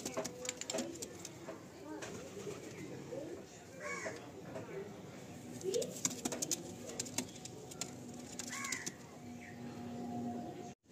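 A pair of Madrasi pigeons coos in short, soft bursts, moderately near, amid background chatter and bird calls, with someone talking over much of it.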